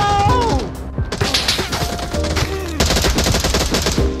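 Rapid gunfire in the VR shooter Onward: sharp, close bursts of automatic shots crack in quick succession, with a thudding impact early on and a steady hail of rounds over the final seconds.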